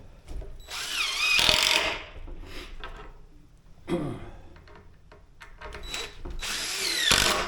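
Power drill driving screws into wood while building a wire spool reel, with three loud whirring bursts that rise in pitch as they run, separated by quieter handling noise, close up, no talk.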